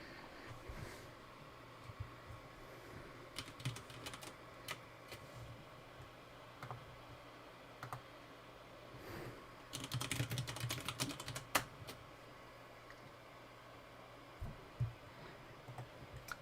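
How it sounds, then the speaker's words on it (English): Quiet computer keyboard typing for chat during a GeoFS flight simulator session: irregular soft key clicks with occasional faster bursts, close by over a low steady hum. "I'm just typing in chat because why not?"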